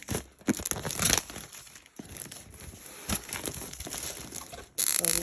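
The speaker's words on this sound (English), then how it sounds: "Take this plastic off." Plastic wrapping being torn and peeled off boxed party decorations and supplies, making continuous close crinkling and tearing noises with a few sharper rips, and no talking.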